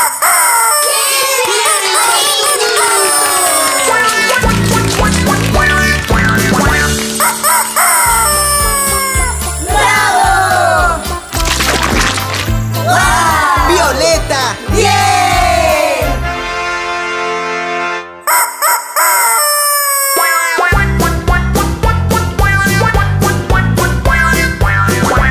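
A rooster crows in a cheerful Spanish-language children's song, the cock-a-doodle-doo likely voiced by a singer imitating the bird, ringing out over a loud, continuous, bouncy musical backing.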